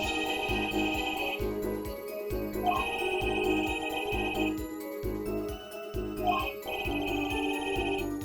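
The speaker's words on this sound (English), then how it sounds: "Cell phone." Cell phone ringtone from the Apollo Justice: Ace Attorney video game, a repeating electronic ring playing in short bursts with brief gaps, loud and clear with no talk over it.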